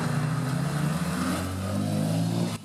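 A Nissan 350Z followed by a BMW E36 pulls out of the Magny-Cours circuit, loud close engines droning and revving steadily as they pass, then easing slightly at the end.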